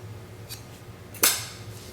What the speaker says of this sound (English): then I'll cut this yarn